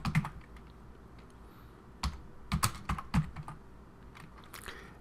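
Computer keyboard typing a command, irregular clusters of close key clicks with short pauses, no voices.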